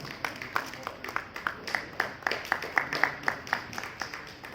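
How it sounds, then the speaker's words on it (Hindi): An audience at an award ceremony claps in a loose, sparse patter of individual hand claps, moderately near and fairly soft, scattered unevenly rather than building into a full roar. "दोस्तों तालियां सभी की जोरदार मिलें"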